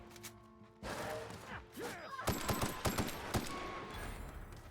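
Player's gun firing in The Outer Worlds, a cluster of sharp, loud shots in quick succession amid other combat noise, following a quieter stretch.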